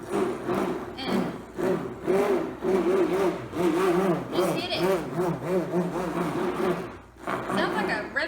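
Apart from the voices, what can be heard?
stick blender running in bath whip mixture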